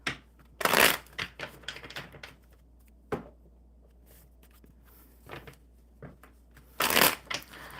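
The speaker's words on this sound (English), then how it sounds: "just a couple more good shuffles, Elaham, to get these" Playing cards being shuffled close by, with two loud riffling bursts at the start and end and lighter card handling and taps in between during a casual live card session.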